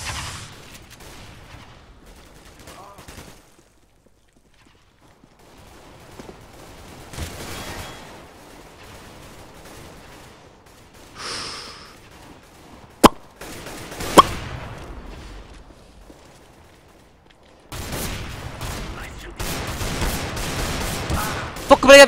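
Bursts of gunfire in the tactical shooter CS:GO, scattered sharp shots and a dense stretch of firing near the end, with quieter gaps of game ambience between volleys.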